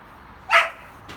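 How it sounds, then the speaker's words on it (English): A single sharp dog bark rings out indoors at moderate distance, followed by a fainter second yelp, over low background hum. "It's my dog going mad for some reason."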